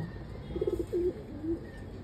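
A white pigeon kept in a Dhaka pigeon loft coos softly nearby, a quick rolling burst then two drawn-out low coos, quiet over faint background noise.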